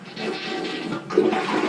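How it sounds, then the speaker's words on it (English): A household toilet flushes up close, a loud rushing swirl of water that surges again partway through as the bowl drains, with no talking. "If it's at its regular height, that means you can flush it again."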